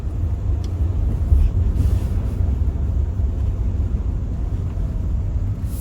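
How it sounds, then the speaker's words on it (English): Steady low electric motor hum with road rumble inside a moving updated Tesla Model 3, a continuous even drone filling the cabin with no talking. "You hear just the hum of the motors."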